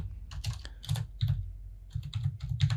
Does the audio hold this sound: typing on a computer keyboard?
yes